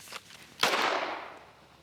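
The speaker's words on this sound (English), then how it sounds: "I did shoot your target." A single sharp gunshot cracks out at a shooting range target, loud and fairly close, its broadband blast decaying over about a second after a faint earlier tap.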